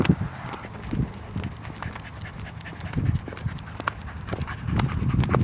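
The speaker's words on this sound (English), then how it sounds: "this dog pulling us down the hill wasn't helping" A dog pants heavily and rhythmically nearby while pulling downhill, with footsteps crunching alongside and occasional small scuffs, in Ranong, Thailand, no talking.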